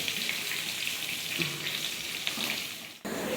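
Brinjal slices fry in oil with a soft, continuous sizzle heard at a moderate distance, fairly quiet overall, ending in a sudden abrupt cutoff and a shift in background noise.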